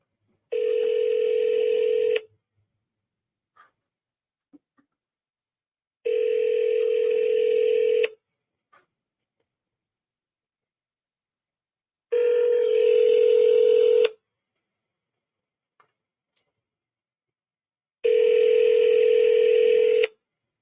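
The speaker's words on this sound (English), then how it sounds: "Okay, dialing again." Telephone ringback tone on a cold call: four evenly spaced two-second rings separated by about four seconds of near silence, clear and steady, with a few faint clicks between.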